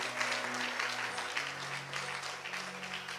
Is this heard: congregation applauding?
yes